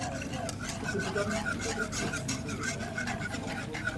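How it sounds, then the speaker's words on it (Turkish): A mixture stirred slowly with a spoon in a bowl to keep it from clumping, a continuous close scraping and rubbing texture with soft rhythmic strokes throughout. "Ben bunu yavaş yavaş karıştırıyorum ki topaklanmasın."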